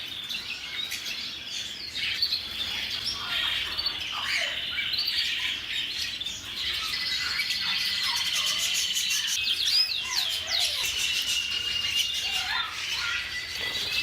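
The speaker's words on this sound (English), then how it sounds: "Nice red factor canaries." Red factor canaries and many other birds in a bird store chirp, tweet and squawk continuously, a dense overlapping chorus of close and farther calls.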